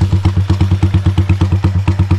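A Motoposh Pinoy 155 motorcycle engine fitted with a Keihin flat slide carburetor idles nearby with a steady, rapid, loping putter, loud and even throughout.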